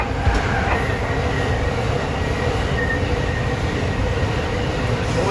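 A passenger train hauled by an F40 locomotive rolls past inside Bay Tunnel, a loud, steady roar of wheels and rail noise with faint squeal, sustained without break.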